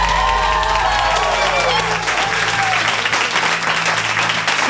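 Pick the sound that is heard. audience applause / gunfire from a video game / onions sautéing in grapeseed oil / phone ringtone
audience applause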